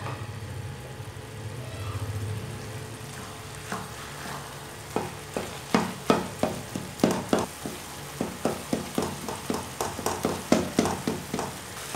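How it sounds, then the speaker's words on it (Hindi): Saag greens frying on high flame in a pan, with a steady low sizzle and then a run of sharp scraping stirs in a regular rhythm, close by and without talk. "इसको पाँच मिनट तक ऐसे ही भून लेंगे तेज़ आंच पर"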